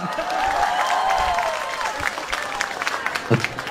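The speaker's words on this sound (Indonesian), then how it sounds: "Tepuk tangan buat tukang son" Applause from a seated audience at an Islamic motivational talk, moderately loud and steady for a few seconds with some cheering and a voice rising over it before thinning out.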